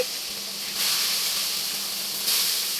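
A steady hiss of boiling water in a pot of tinola soup broth, with bubbling steam nearby, swelling louder briefly a couple of times.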